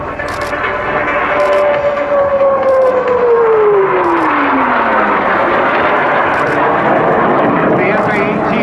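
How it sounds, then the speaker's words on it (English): A loud tiltrotor aircraft engine drones close by in helicopter mode with a falling whine as it descends to land at an air show, while a voice talks over it. "The pilot sets up for his landing."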